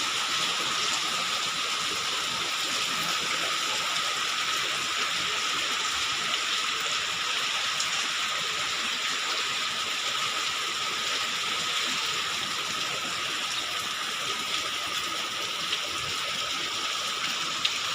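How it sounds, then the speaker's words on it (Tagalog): Small stream flowing steadily during a typhoon, heard as a continuous broadband rush with no breaks, likely mixed with rain and wind, at an even moderate level throughout. "Buti maliit lang yung tubig sa sapa."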